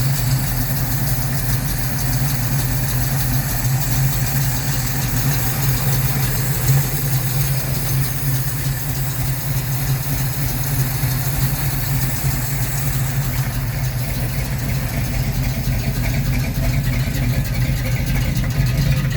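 A 1972 Chevelle V8 with a mild cam idles steadily and running rich from a carburetor that needs adjusting, a constant low burbling rumble heard up close with no break.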